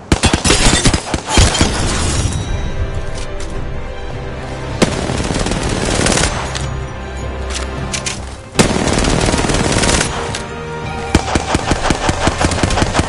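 Sustained automatic gunfire from the Apex Legends video game, loud and dense in rapid bursts with brief pauses, plus sharp impacts and crashing bangs, with no talking.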